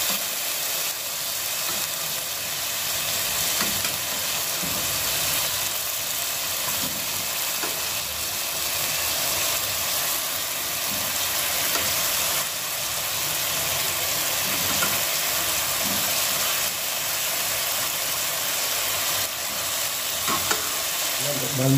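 Chicken feet and gizzards sizzle and steam in a pot for tinola, a steady close frying hiss with occasional stirring scrapes and no talking.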